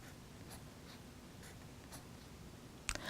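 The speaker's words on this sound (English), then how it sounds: "Doodle around the edges of the card with a fine tip marker or pen." A fine tip marker doodles swirls, dots and squiggles around the edges of a paper card, giving soft, quiet scratching strokes in short bursts, ending with a small rustle.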